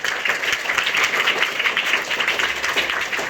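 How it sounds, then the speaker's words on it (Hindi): Audience applause at a lecture on rationalism and superstition in Surat, Gujarat: a dense, steady wash of many hands clapping together, fairly loud and close, with no talk over it. "एक बार जोरदार ताली बजाइए।"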